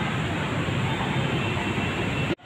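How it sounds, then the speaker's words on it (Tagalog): MRT train pulling into a station, a loud continuous rumble and hiss filling the space, cutting off abruptly near the end. "dumarating na yung train"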